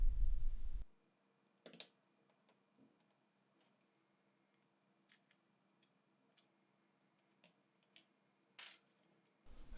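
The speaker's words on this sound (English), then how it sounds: "eject the SIM card tray here." A SIM card tray is pushed out of a Samsung Galaxy A41 phone. Small, sharp metallic clicks and taps sound close up in near silence, with a louder rustle at the start and end.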